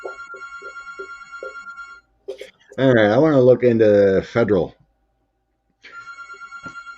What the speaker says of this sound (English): Home phone ringing away.